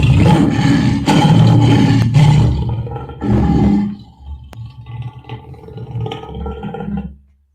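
A voice imitates a drawn-out, growling roar, loud and close, breaking into several rough bursts before fading into a lower rumbling tail.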